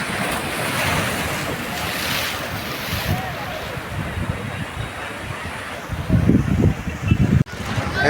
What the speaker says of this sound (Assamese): এইটো চাইডত বেছিকৈ ঢৌ মাৰে।